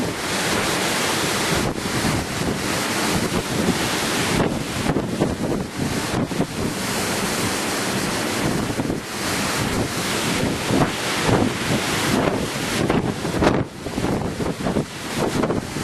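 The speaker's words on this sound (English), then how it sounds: "Now the gusts of wind are getting so strong that they're sort of trying to shift me here on the veranda." Strong gusts from Cyclone Yasi roar across a veranda, a dense, loud, unbroken rush of wind buffeting the microphone with surging peaks and no talk.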